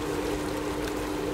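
Steady rushing water noise in the blocky world of Minecraft follows a player landing in water, a continuous moderate wash with no distinct splash onset.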